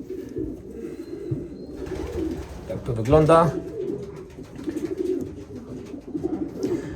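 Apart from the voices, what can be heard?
young pigeon cooing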